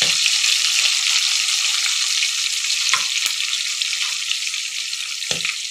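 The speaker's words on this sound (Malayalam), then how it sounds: "ആ ഉലുവയൊക്കെ ഒന്ന് എണ്ണയിൽ നന്നായിട്ട് ഒന്നങ്ങട് ഫ്രൈ പോലെ ആവണം." Mustard seeds, fenugreek and kanthari chillies fry in oil for a tangy curd-mango dish, giving a steady, close, loud sizzle with brief crackles and spits near the third and fifth seconds.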